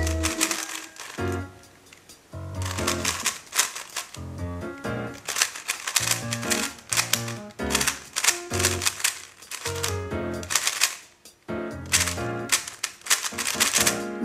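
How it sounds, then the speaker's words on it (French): A Gan 11 M Pro speedcube being scrambled and solved gives rapid, close plastic clicking and clattering in dense bursts, with brief pauses between runs of turning and no talk. "donc on va mélanger le cube."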